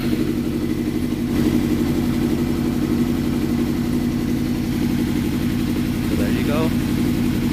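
A 2005 Suzuki GSX-R 750/600 K5 motorcycle engine runs at a steady, fast cold-start idle, a constant mid-pitched drone close by, with a brief voice near the end.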